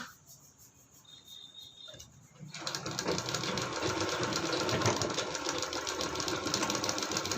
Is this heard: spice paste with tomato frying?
no